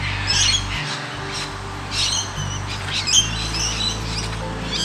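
Australian birds call after rain toward dusk, a mix of harsh squawks and bright chirps, fairly close and loud, overlapping over a low constant background hum.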